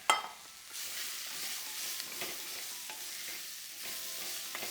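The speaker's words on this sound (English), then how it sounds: "In go my shallots." Shallots drop into a hot pan over high heat for a Malay pickle and burst into a loud, steady sizzle after a brief quiet start, with occasional stirring clicks over the hiss.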